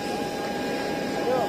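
Steady engine drone inside an airplane cabin, a continuous broadband hum carrying a faint tonal whine throughout, with no speech over it.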